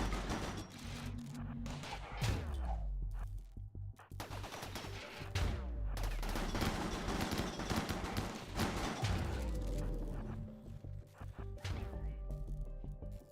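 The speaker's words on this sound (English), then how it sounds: "deployable mini turrets are just absurd" Rapid turret gunfire in the RimWorld video game, bursts of shots with impacts and crashes running almost continuously at high volume, swelling and easing over the stretch with no voices.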